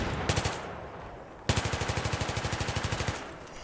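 A Battlefield 3 machine gun fired from the hip: a short burst of a few rounds, a brief pause, then a longer rapid burst of about twenty evenly spaced shots that stops abruptly.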